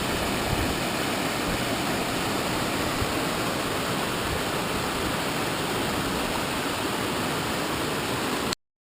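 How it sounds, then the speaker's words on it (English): A waterfall feeding Lake Ivanhoe roars in a constant, broadband rush, steady and loud throughout before cutting off abruptly at the end. "This waterfall feeds the lake."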